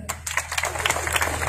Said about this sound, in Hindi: वेरी नाइस, ताली बजाओ।